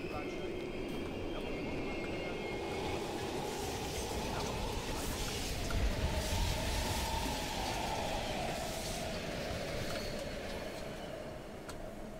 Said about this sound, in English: Patrol ahead. Use the train to slip past.